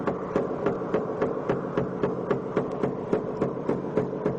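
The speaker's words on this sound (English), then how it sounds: "take a pick hammer and pick those down, kind of sink them a little bit" A pick hammer taps rapidly and evenly on dented, rusty car body sheet metal during dent repair, giving about sixteen crisp close strikes in a steady rhythm.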